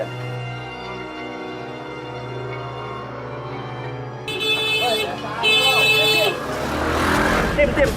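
Motorcycle engines drone nearby in traffic, with revving that swells louder partway through and a horn-like tone over the street noise.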